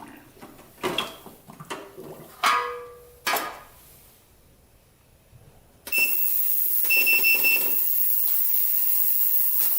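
An ultrasonic cleaner cleaning a carburetor switches on partway through with a steady high-pitched electronic hum, after a few scattered clinks and handling sounds of parts and tools.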